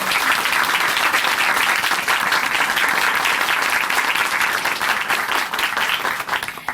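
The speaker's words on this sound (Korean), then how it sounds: "귀한 간증 들려주신 전윤경 자매님께 다시 한번 큰 박수 보내드릴게요" A church congregation breaks into loud, dense applause after a personal testimony, a full sustained roar of clapping that holds steady before starting to thin out at the end.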